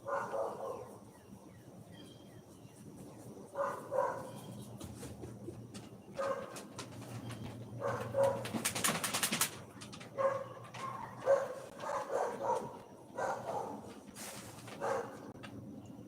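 Dogs bark in scattered, uneven bursts, some close and some farther off, across a quiet yard. Soft cooing pigeons sit in the background between the bursts.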